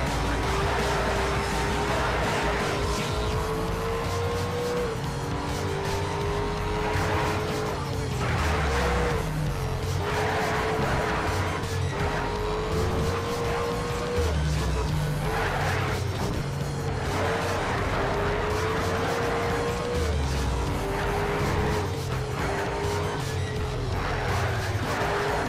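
Race cars in Need for Speed Shift roaring along a track, sustained engine drone with shifting pitch and occasional passing bursts, loud and continuous with little talk.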